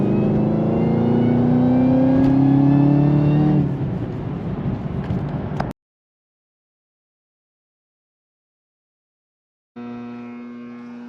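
The 650-horsepower engine of a Camaro ZL1 1LE revs loud and close, its pitch climbing and easing before it cuts to silence, then it settles into a steady idle.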